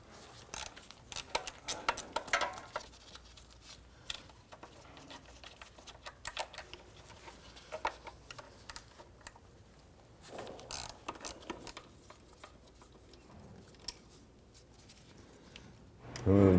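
A ratchet wrench works on two 10mm bolts holding the shift cable bracket of a 1994-2004 Ford Mustang 3.8L V6, with scattered short clicks and metallic ticks, fairly quiet, in bursts with pauses.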